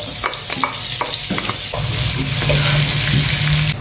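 Steady crackling sizzle of a large chopped onion frying in hot oil for masoor dal, loud and continuous, with occasional stirring scrapes and pops throughout.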